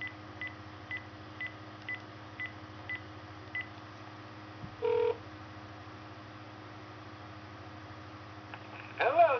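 A phone number being dialed to call someone's dad, with a run of evenly spaced short keypad tones, then a longer tone and a louder burst at the end, over a steady low hum. No talk.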